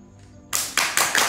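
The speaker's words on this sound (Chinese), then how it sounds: "先鼓掌" A small group at a rooftop private dining restaurant breaks into hand clapping before a song, four crisp loud claps in an even rhythm after a brief quiet start.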